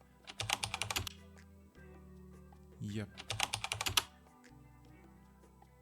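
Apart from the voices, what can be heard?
keyboard typing sound effect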